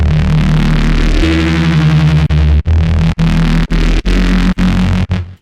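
Layered reese bass rendered dry without effects, a dense, gritty, thick low drone with churning upper buzz, loud and continuous, broken by several abrupt rhythmic cuts toward the end.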